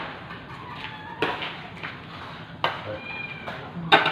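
A house cat meows several times in short, fairly quiet calls spread across a few seconds, with light background noise and some indistinct talk nearby.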